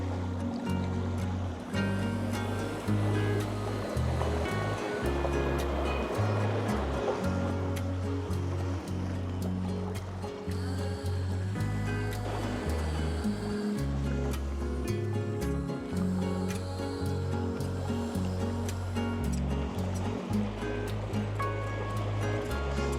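Continuous ocean surf washes and splashes off San Diego, a steady broad roar with low rumbling underneath and no speech.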